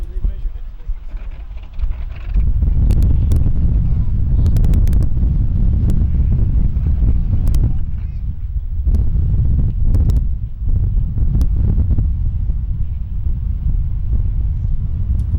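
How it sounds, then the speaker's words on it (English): Strong 25 to 30 mph wind blows over choppy water with whitecaps, roaring steadily as buffeting rumble across an outdoor microphone, with a few sharp knocks scattered throughout. "the winds are really blowing about 25, 30 miles per hour, white caps out there"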